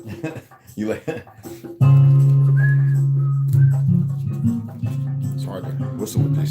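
After a few spoken words, a person whistles a long, sustained tone that wavers slightly, close and fairly loud, with brief talk returning at the end.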